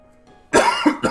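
A short burst of harsh coughing, two or three loud close coughs in quick succession after a quiet moment, part of an ongoing coughing fit.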